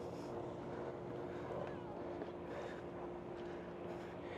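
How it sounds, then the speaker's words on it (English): A steady jet ski engine drone hums throughout, running out on open water of Tawas Bay, Michigan, with constant wind-like background noise. "Got someone on their jet ski right now."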